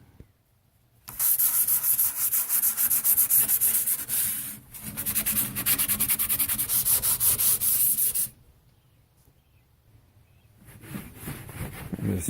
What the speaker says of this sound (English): So I think I'll go ahead and finish up with sanding, and then I'll move on to painting.